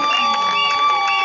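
Audience cheering at a wedding ceremony where a man weds four women on the same day: a brief, steady crowd roar with scattered shouts, mixed with a sustained tonal backdrop.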